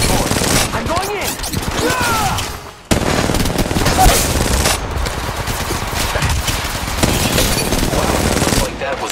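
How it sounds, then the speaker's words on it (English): Sustained bursts of video game machine gun fire crackle loudly and continuously, with a brief pause partway before the rapid shooting resumes. "Opening fire on the enemy."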